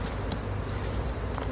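Italian honey bees swarm around an open hive in a bee yard, a dense continuous buzzing drone, close and steady with no voices.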